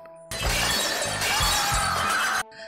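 A stacked pyramid of glasses topples and shatters in one loud, sustained crash of breaking glass with tinkling shards, close and alone for about two seconds.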